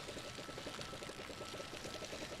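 Water pours steadily from a watering can onto plants in a video game, a continuous trickling splash that stays at an even level the whole way through without a break, heard on its own with no talk.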